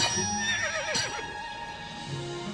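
A horse whinnies in Disney's royal horse world video game, a bright, wavering neigh rising and falling near the start and middle over steady game music, with light hoof clip-clops.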